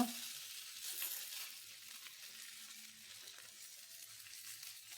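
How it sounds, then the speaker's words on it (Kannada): Drumstick leaves roti sizzles on a hot iron griddle, giving a faint, steady hiss with soft crackles close by and no voices. "ಈಗ ಕಾವಲಿ ಕಾದಿದೆ, ನಮ್ಮ ರೊಟ್ಟಿಯನ್ನು ಹಾಕಿಕೊಳ್ಳೋಣ"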